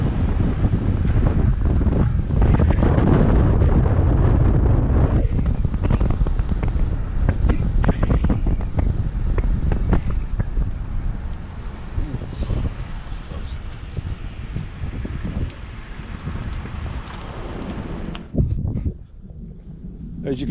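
Strong wind roars and buffets the microphone during a thunderstorm over Fort Erie near Niagara, a loud continuous rush that eases briefly near the end; distinct thunderclaps are not clearly evident.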